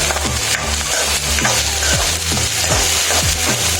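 Carrots hit browned onions frying in a pan, giving a loud, close sizzle with repeated scraping stirs at a steady rhythm.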